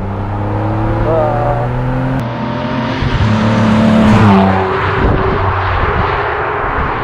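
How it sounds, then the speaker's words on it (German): A 2008 Ferrari 612 Scaglietti with a V12 engine revs up close and loud, the deep engine note climbing and swelling before easing back, heard alone. "Also kerniger Sound, so ein richtiger 12-Zylinder Ferrari."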